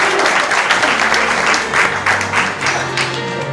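Welcoming applause from the audience at the opening ceremony of a Gyeonggi provincial council candidate's campaign office in Icheon, with a dense, steady wash of many hands clapping for a few seconds at a close range.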